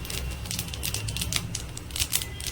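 Radhuni seeds crackle and sizzle in hot oil for a Bengali shukto, with steady close frying hiss broken by rapid little pops and spits.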